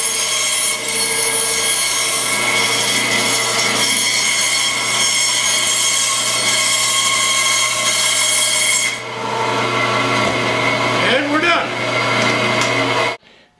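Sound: bandsaw trimming a wooden board

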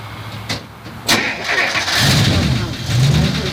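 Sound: 1958 Chrysler 392 Hemi engine starting

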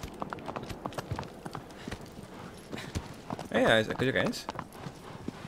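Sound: horse hooves galloping, video game Shadow of the Colossus

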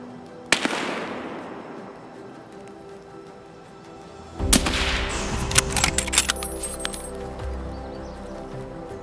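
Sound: sniper rifle shot in Escape from Tarkov video game

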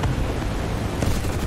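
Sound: gunfire in War Thunder video game

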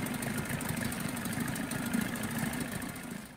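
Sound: 1984 Johnson 25HP outboard engine idling in forward gear

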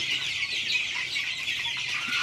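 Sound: chicks of Colour Bird chicken breed

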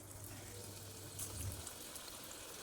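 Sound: kohlrabi fritter batter dropped into hot oil, frying

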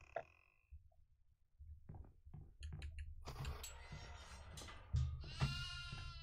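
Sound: goat bleating in Devour video game

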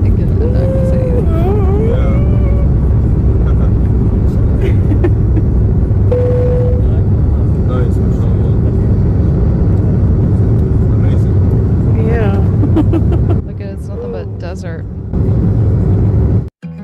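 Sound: airplane taking off on runway

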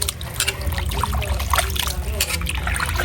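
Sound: washing cut meat with water

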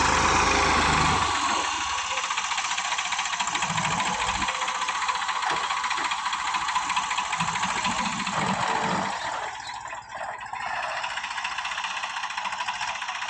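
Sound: tractor engine running on a farm

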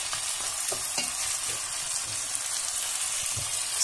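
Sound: onion sautéing in a pot for red lentil soup

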